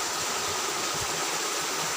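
River flowing through a wild forest, a continuous dense hiss of rushing water filling the whole clip with no gaps, steady and fairly loud.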